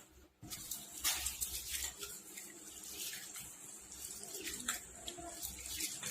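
Basmati rice being rinsed in water, with a steady running-tap and sloshing wash sound that swells and fades in waves, close and fairly loud, with no speech over it.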